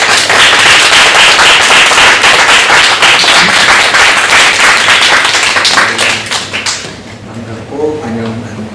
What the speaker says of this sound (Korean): 우리 이분들은 특별히 잠시 일어서시고 가정의 박수